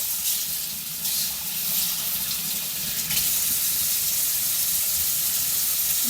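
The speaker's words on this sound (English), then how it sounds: "now I can rinse this color out of my hair" Water runs steadily from a tap in a continuous hiss and splash, close by, with slight changes in flow as hair dye is rinsed from hair under the stream.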